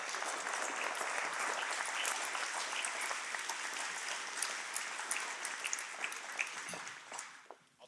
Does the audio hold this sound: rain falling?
no